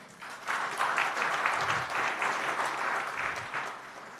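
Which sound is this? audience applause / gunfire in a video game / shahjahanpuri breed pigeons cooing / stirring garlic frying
audience applause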